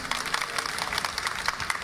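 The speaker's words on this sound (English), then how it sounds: "Applause, please." Audience applause, a brief burst of many hands clapping at a steady loud level, close and dense, with no voices over it.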